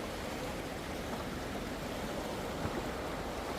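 Flowing water where the Fraser River and Cayoosh Creek converge produces a faint, steady, even rushing hiss with no talk.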